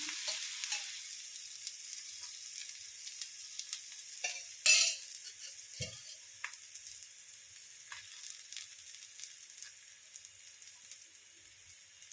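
Oil added to a hot pan while cooking ragi chapati, a bright steady sizzle with a brief louder burst partway through that gradually settles to a quieter crackle.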